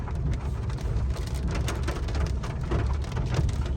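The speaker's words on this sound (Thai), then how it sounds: "ได้เห็นบรรยากาศฝนตกหนักในเมืองนี่" Heavy rain pours down steadily, a dense hiss with scattered sharper drops and a low rumble underneath, no voices.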